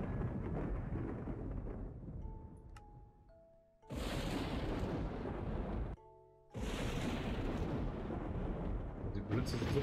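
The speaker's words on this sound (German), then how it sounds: "Die Blitze sind so dermaßen laut" Thunder from lightning in a Minecraft thunderstorm: two loud, broadband rumbling bursts crash in, each lasting a few seconds, with quieter game sounds and brief tonal blips in the gaps.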